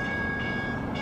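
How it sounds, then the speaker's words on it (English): A train rolls in with a steady, loud mechanical rumble and a sustained high tone like a horn or brake squeal, heard briefly at close range without talk. "Here comes our train."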